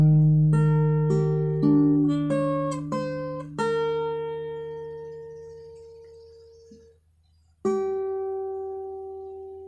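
Clean electric guitar picks out the slow arpeggiated intro of a song, single notes ringing and sustaining over one another, then fading before a fresh note is struck near the end.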